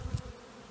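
A swarm of honeybees, roughly three to four pounds, buzzes during a capture, a brief low drone with a slightly louder burst at the start and no voices.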